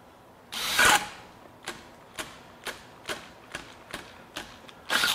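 Makita 40V XGT hammer drill on speed one boring a 9/16 inch single-cutter bit into white pine, heard as a loud opening burst followed by a regular series of short, sharp bursts roughly every half second, close and with no talk.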